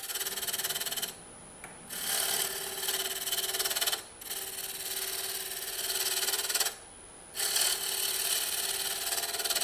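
A file rasps across the surface of a wooden ring on a mandrel in long continuous strokes with three short pauses, a faint, close scraping with no voices.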